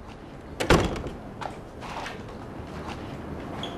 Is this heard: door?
yes